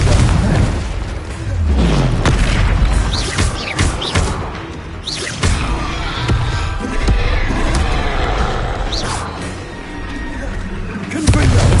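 Repeated Confringo explosive spell blasts in Hogwarts Legacy, loud booming thumps and crashes scattered throughout amid combat noise, with a voice shouting spell names over them.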